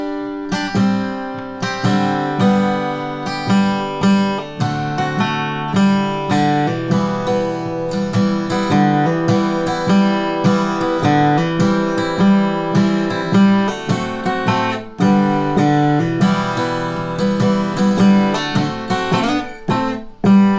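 A slow acoustic guitar rendition of a song, picked steadily at an easy tempo with ringing chords and melody notes, played alone and close up.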